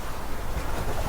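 A sailboat at sea, running at about six knots with the wind and a following swell, rolls down waves with a steady broadband rush of water and wind noise buffeting close to the microphone.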